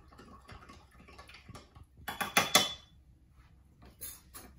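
A spoon clinking and scraping in a bowl as two tablespoons of vegetable oil are stirred into a liquid mixture for cinnamon buns, scattered light taps that swell into a brief burst of louder clatter, with no voices.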